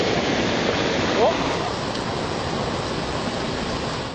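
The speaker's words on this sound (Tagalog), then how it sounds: "Umapaw ang ilog, kaya rumagasa ang tubig." Dense, steady rush of floodwater from an overflowing river in Agusan del Norte, Philippines, roaring without pause, a broad churning wash surging past nearby.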